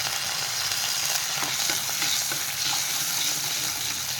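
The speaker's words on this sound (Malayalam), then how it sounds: "അപ്പോൾ കടുക് ഉലുവ ഒന്ന് പൊട്ടിട്ട്" Mustard seeds and fenugreek crackle in hot oil in a pan, a steady dense sizzle with small scattered pops throughout, close and fairly loud with no talking.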